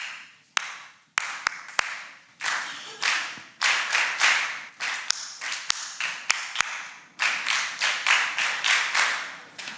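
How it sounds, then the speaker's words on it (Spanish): An audience at a festival talk claps along to a syncopated rhythm: sharp, close hand claps in uneven bursts and accented groups, with brief pauses between phrases and no speech over them. "Escuchamos y aplaudimos."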